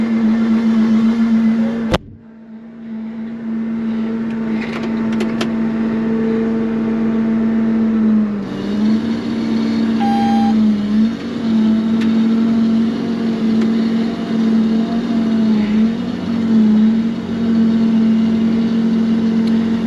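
A tractor engine cranks and catches, then settles into a steady, loud idle with a constant low drone and slight wavering for the rest of the stretch, with no talking.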